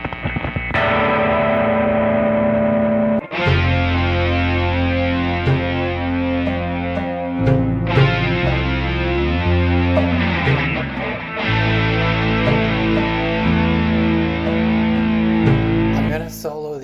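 Explorer electric guitar played through tape echo and chorus effects, a distorted, effected tone with sustained chords and slide passages, loud and continuous, with repeating echoes and a swirling chorus shimmer, no talking.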